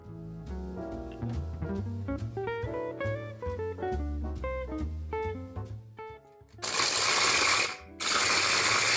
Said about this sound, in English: we are going to use the food processor to pulse the cookies until they are ground into fine crumbs